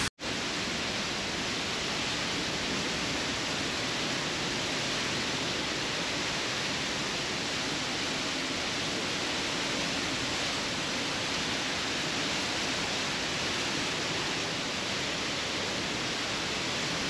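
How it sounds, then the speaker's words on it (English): Continuous broadband roar of rushing water at Niagara Falls, loud and unbroken throughout, like standing near a heavy waterfall. "And you can hear the water. It is loud."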